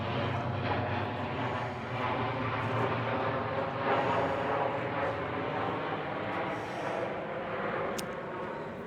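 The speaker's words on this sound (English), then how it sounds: "There's airplanes flying over," Airplanes passing overhead outdoors, a broad continuous roar holding steady and fairly loud throughout, with no talk over it.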